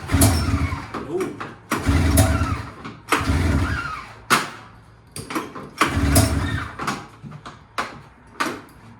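A nitrous-oxide-powered Polaris RMK snowmobile engine is cranked over and over, giving a rhythmic series of loud bursts that each sputter and fade. It never settles into a steady idle.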